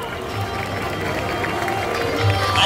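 Audience applause and cheering greet a contestant at a cosplay stage show at the 2022 Seoul Popcon convention, a steady crowd roar that swells slightly toward the end, with an announcer's voice faintly mixed in.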